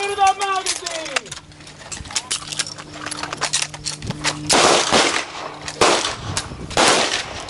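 Handgun fire during a combative shooting drill on a range: several sharp gunshot cracks fired in quick bursts, mixed with clattering and people talking nearby.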